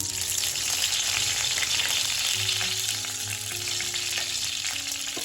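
Curry leaves hit hot oil with roasted mustard seeds, a loud continuous sizzle and crackle with occasional stirring, no talk.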